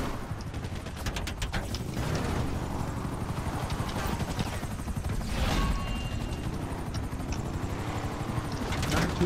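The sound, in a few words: helicopters flying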